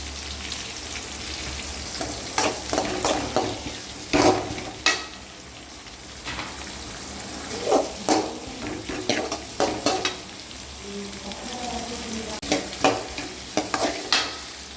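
Curry leaves and dried red chillies crackle in hot oil under a soft steady sizzle, while a spoon stirs in irregular bursts of scraping and clatter, close by and without speech.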